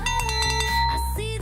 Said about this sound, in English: Time for the ringing of the cowbell.